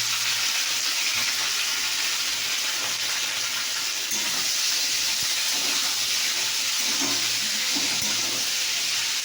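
Potatoes and onion fry in a small amount of hot oil, giving an even, dense hiss that holds steady and close throughout, with no talking.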